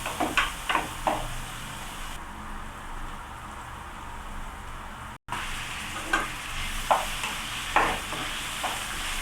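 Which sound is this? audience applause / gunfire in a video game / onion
onion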